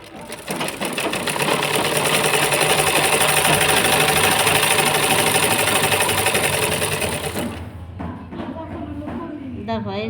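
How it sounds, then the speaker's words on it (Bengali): A sewing machine stitches palazzo trousers in a steady, loud mechanical whir for about seven seconds, then stops abruptly, leaving a quieter room where a voice is briefly heard. "আমি তো এভাবে সেলাই করে আসলাম"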